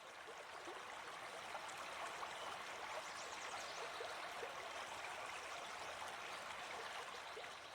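Steady flowing river water streams and trickles continuously at a soft, even level, with no voices or other sounds.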